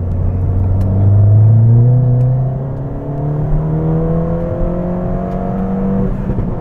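A Stage 2 Ford Fiesta ST engine drones steadily and close, its pitch slowly rising and shifting through gears with a deep rumbling note, no talk over it.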